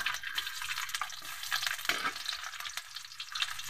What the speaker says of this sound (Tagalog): Gisa na tayo ng ating luya.